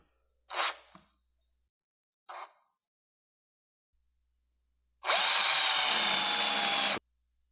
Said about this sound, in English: Run the drill. It'll have a self-stop.